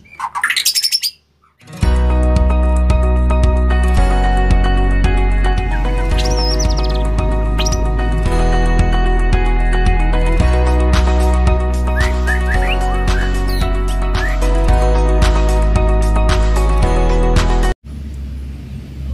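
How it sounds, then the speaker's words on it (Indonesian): Constant chatter and whistles from a white-rumped shama fledgling fill the whole stretch, bright repeated calls and trills layered over a steady hum, after a brief quiet gap near the start. "di depan Anda sudah ada 1 ekor trotolan murai batu"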